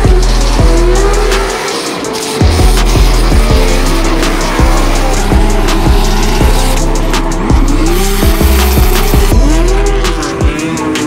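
A loud Formula Drift race car engine, a BMW, revs hard with repeated sharp gear-change blips and bursts of tire squeal, continuous and close throughout.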